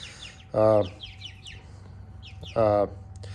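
Two loud, close clucks from backyard chickens, including a Black Copper Marans, sound about two seconds apart, with fainter chirps and cheeps scattered in between.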